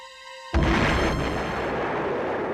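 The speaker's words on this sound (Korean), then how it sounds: "런던 서쪽 교외의 치스윅에 그야말로 우레와 같은 폭발이 일어났다" A V-2 rocket blast in suburban Chiswick, west London, in 1944 bursts in suddenly after a steady tone and rolls on as a loud, sustained rumbling roar.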